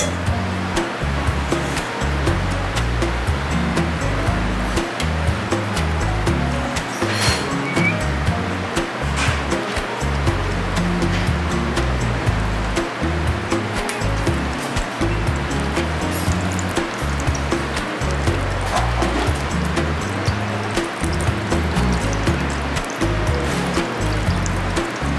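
Bison arancini deep frying in a pot of hot oil in an alpine kitchen, a steady loud rushing sizzle and bubbling that holds without a break throughout.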